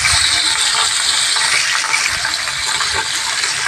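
Pabda fish being lightly fried in hot oil in a frying pan, giving a loud, steady, dense sizzle that holds without pause.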